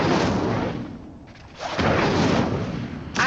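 Incendio fire spell cast on pyres in the Hogwarts Legacy video game, a loud whooshing, roaring blast of flame that dips briefly and then surges again, ending with a short sharp burst.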